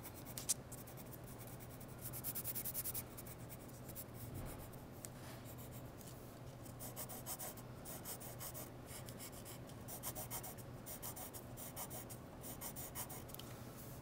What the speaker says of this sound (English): drawing really darkly on all of this